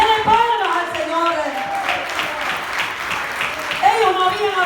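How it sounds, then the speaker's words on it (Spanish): A church congregation claps and applauds during a Spanish-language sermon, a dense, sustained patter of many hands, while a voice rises over it, calling and speaking loudly. "Denle palmas al Señor."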